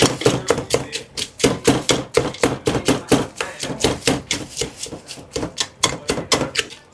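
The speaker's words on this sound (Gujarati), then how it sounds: "આપણે એને હવે ક્રશ કરી નાખીએ" Crushing fried ghughra snacks for a Surat street-style bhel: a fast, steady run of sharp crunching knocks, close and fairly loud, keeping up without a break.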